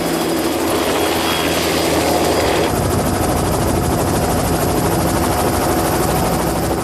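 A helicopter in flight carrying wreckage away from a plane crash site, a loud, steady, close rotor and engine roar with dense broadband noise that never lets up, no voices.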